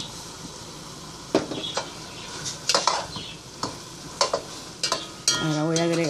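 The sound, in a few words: sofrito being added to cooked meat in a pot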